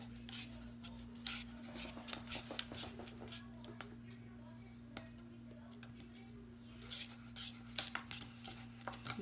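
A spoon stirs homemade slime in a container, giving irregular clinks and scrapes with soft squelchy movement, close but quiet over a faint steady hum.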